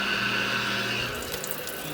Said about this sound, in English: So the first thing I wanted to do was test my